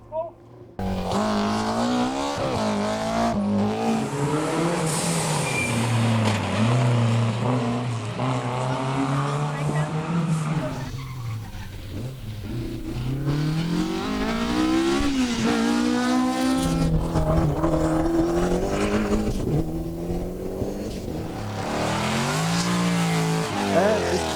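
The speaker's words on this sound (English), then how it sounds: "So it's a TR7 with a V8 engine." A Triumph TR7 rally car with a V8 engine, built as a replica for a historic rally at Ypres, roars past loudly, its engine pitch climbing and falling through gear changes with a steady throaty drone throughout.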